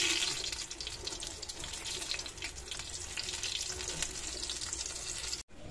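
Lumpia togue filled with bean sprouts and corned beef fries in hot oil, a loud, constant hissing sizzle that runs unbroken before cutting out abruptly near the end.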